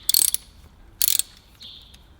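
Two short bursts of quick ratchet clicks as bolts on a VW Golf MK3 VR6 engine are loosened in turn, close by, separated by a quiet pause with a faint high tone after.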